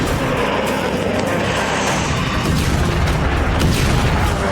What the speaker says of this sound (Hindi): इजराइल की ओर से दागी जा रही रॉकेट और मिसाइलें दिन रात तेहरान की जमीन पर गिर रही हैं और उनके धमाके भूकंप की तरह पूरी धरती को हिला देते हैं